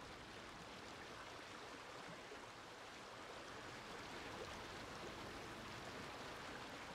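Water streams in a video game as a soft, even rushing wash, like a distant waterfall, steady and faint throughout with no voices.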